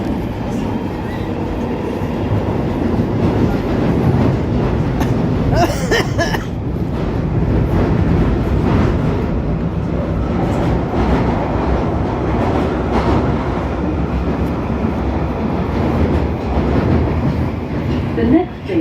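Underground train on the Charing Cross, Euston & Hampstead Railway rumbles loudly and continuously through a tunnel, with rattling carriages, clattering wheels and a brief squeal partway through.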